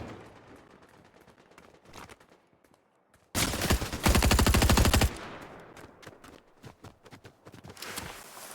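Twin mags fire in Fortnite with a loud, fast burst of rapid gunshots lasting about two seconds, set between quieter game footsteps and ambient sounds.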